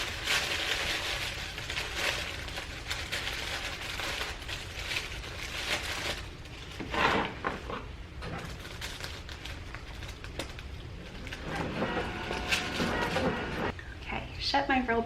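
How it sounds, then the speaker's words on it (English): A roll label printer used for shipping labels runs its self-cleaning cycle, giving a busy, rattling, clattering mechanical noise that continues throughout while a person talks over it. "Shut my roll printer off because it gets very noisy and it cleans itself."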